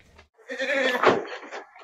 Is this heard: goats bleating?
yes